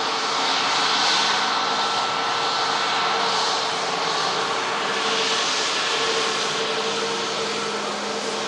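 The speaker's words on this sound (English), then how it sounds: "As the Norwegian Max aircraft vacates in front of us at the runway" A Norwegian Boeing 737 MAX on the runway gives a loud, steady jet engine roar with a broad rushing hiss, continuous and close throughout.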